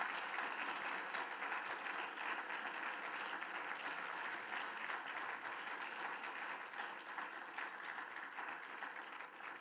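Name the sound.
audience applause for the speaker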